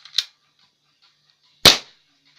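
An M1911-style BB pistol dry fired with no pellets, two sharp snapping shots about a second and a half apart, close and loud, the second stronger, with silence between.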